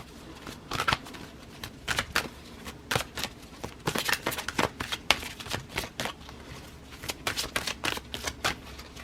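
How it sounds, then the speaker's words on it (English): Tarot cards being shuffled and pulled by hand, a steady run of crisp, close riffling flutters and slaps, repeating in quick bursts throughout with no talking. "let's go ahead and pull some outcome cards, get a little additional information about this"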